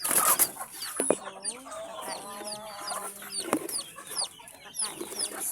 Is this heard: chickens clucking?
yes